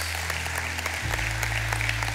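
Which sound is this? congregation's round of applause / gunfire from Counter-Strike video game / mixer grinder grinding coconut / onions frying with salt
congregation's round of applause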